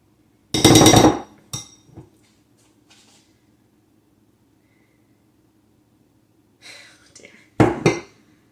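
Kitchen utensils and dishes clatter during cookie baking, a loud cluster of clanks at the start, a few lighter knocks, a long quiet stretch, then another sharp burst of clattering near the end.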